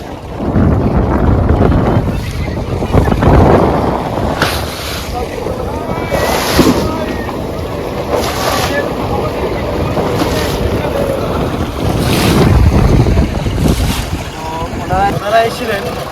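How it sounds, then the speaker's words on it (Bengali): A tourist boat moves on open water nearby in the Sundarbans during hook fishing, its steady hum blending with waves, lapping water and heavy wind noise on the microphone, a constant loud wash throughout. "আমাদের সাইডে একটা টুরিস্ট বোট ওনারা এসছেন একটু মাছ দেখার জন্য"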